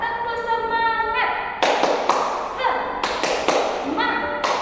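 A school class chants and claps a rhythmic spirit clap, sharp group claps landing in short bursts between sung-out voices, loud and close in a classroom.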